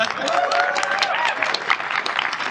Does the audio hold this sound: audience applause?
yes